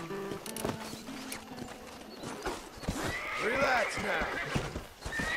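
A horse neighs and whinnies while hooves clip-clop close by in the Red Dead Redemption video game, with a voice talking calmly over the animal.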